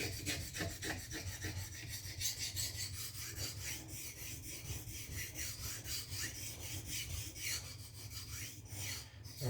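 A blade drawn steadily back and forth across a sharpening stone to even out its bevel, producing a continuous rhythmic rasping scrape, close and alone.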